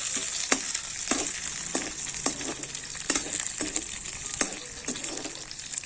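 Almonds and cashews roast in a hot pan while being prepared for a gajrela (carrot halwa). A steady hiss runs throughout, broken by about eight regular scraping stirs spaced roughly half a second apart.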